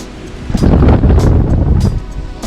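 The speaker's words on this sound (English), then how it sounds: "This wind is crazy." Strong wind buffets the microphone outdoors while fishing in Delaware in November, a loud, continuous low roar that surges and gusts for a couple of seconds.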